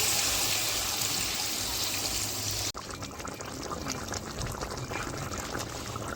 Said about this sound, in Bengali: জলটা ফুটিয়ে তারপরে মাছটা দিয়ে দেবো